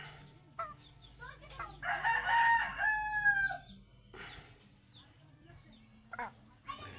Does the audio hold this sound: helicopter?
no